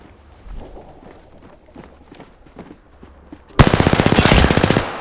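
Automatic weapon fire from the video game Apex Legends bursts in loudly near the end as a rapid, sustained volley, after a stretch of quieter footsteps and movement.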